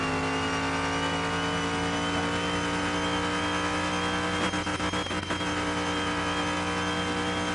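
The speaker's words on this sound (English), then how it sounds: "I also love the way this car takes off too." A Mustang Mach 1 accelerating in the racing game Car Mechanic Simulator 2021, its engine a loud continuous drone with a steady high whine and a brief rattly burst midway, no voices.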